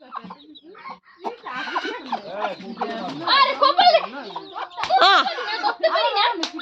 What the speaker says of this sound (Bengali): মুরগিতে আদার খাচ্ছে